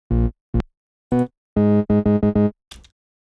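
Bass notes from the LMMS Triple Oscillator synth, three sine oscillators stacked in octaves, play a short staccato pattern of clean tones with brief gaps between them. A final noisy burst closes the phrase.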